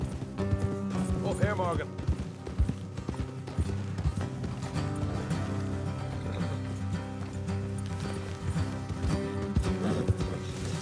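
Horses ridden in the video game Red Dead Redemption 2: steady clip-clop of hooves at a trot, moderately loud, continuing under a man's spoken lines and game ambience.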